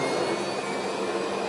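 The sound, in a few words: aircraft engines going into reverse thrust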